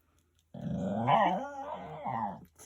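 A dog growls steadily, rising into a snarling, whining bark, close and loud, then a short pause and another growl.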